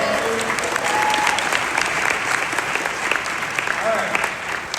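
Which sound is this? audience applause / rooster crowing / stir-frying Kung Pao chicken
audience applause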